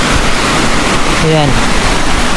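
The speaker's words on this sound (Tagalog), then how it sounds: "Ito agos talaga to dito na tubig" A meltwater stream from thawing snow runs over rocks in Greenland, a steady loud rushing wash that fills the whole clip while someone speaks a word briefly over it.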